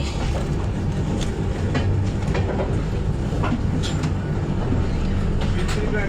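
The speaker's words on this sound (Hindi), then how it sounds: "जस्ट क्रॉस किया है अपनी ट्रेन को" A train rumbles steadily past alongside the Gitanjali Express, a loud, continuous rattle of wheels and carriages with faint clicks on top.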